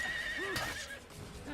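A horse whinnies in the video game Assassin's Creed, a single close, clear neigh with a rising and falling pitch, with soft hoof clip-clop and game ambience beneath it.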